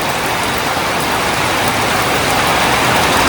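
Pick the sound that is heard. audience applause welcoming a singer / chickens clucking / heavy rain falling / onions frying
heavy rain falling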